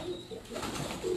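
Pigeons of old, renowned breeds coo on a rooftop in Larkana, Sindh, a soft continuous murmur of low coos that swells slightly toward the end.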